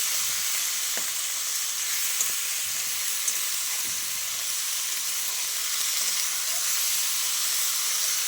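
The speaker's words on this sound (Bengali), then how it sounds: "টমেটোটা দিয়ে কিন্তু আমি বেশ কিছুক্ষণ ভেজে নেব" Tomatoes frying in a pan for a chorchori dish, a loud, even, continuous sizzling hiss close by with only faint occasional stirring touches.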